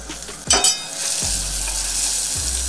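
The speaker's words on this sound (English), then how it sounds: "Till the time onions fry" Onions sizzle steadily in a butter and oil mix in a pan, a close, continuous hiss broken by a few louder clatters of stirring near the start.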